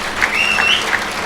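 A seated audience at a book festival stage applauds a Tamil poetry speech, a dense, loud burst of many hands clapping together with no voice over it.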